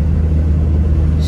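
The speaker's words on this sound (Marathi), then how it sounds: "गाडी आता मीच चालवतोय" Steady low engine rumble of a car being driven on the road to Igatpuri, close and continuous, with no other sounds over it.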